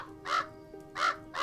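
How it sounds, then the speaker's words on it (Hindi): Crow cawing in the farming horror video game Pumpkin Panic: three loud, harsh caws spaced evenly, heard alone with no voices. "कौवा बात कर रहा हमसे"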